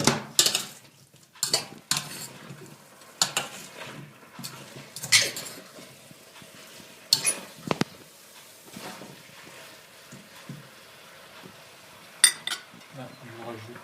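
Courgettes and carrots being stirred in a pot for chicken and merguez couscous, with a spoon scraping and knocking against the pot in scattered clinks, intermittent and close, with a voice speaking at times.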